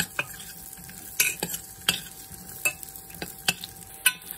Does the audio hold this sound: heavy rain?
no